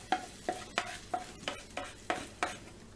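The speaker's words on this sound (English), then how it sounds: "Sizzling away as it should." A soft sizzle of butter and pepper in a hot pan runs under a series of about eight regular scraping strokes, like a utensil stirring, close and fairly quiet.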